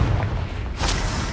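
Confringo blasting spell exploding in Hogwarts Legacy, a loud, short burst of booming impact over continuous rumbling combat noise, with a bright crack near the end.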